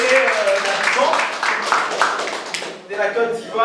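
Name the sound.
audience applause for a singer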